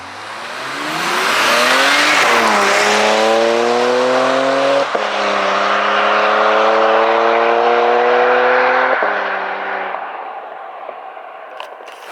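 A Porsche Macan with PDK transmission drives past and accelerates, engine note climbing through gear changes with a loud swelling roar that peaks mid-pass then fades into the distance, no talk.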